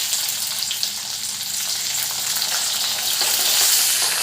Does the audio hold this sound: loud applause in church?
no